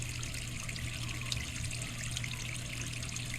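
Water running down a toilet drain pipe during installation testing, a steady close rushing and trickling flow that stays even throughout with no voices.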